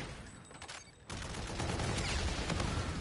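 Grenade blast and rapid gunfire from a Halo match, loud and dense, the firing swelling after a brief dip and continuing as a sustained barrage.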